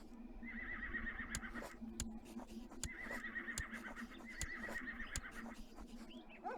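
Horses in the video game Crusader Kings II neigh in three repeated whinnies over a steady low drone, punctuated by sharp clicking game-interface taps, with no talking.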